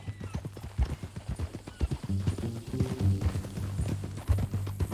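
Horse hooves clip-clop steadily in Red Dead Redemption 2, a mean-looking new horse trotting close and loud, with low droning tones and an occasional whinny-like sound around it.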